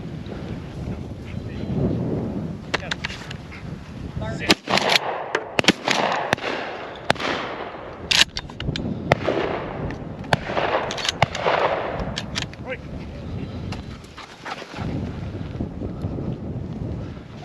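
Shotgun shots at a tower pheasant shoot outdoors, several sharp cracks scattered irregularly over strong wind buffeting the microphone, some near and loud, others more distant.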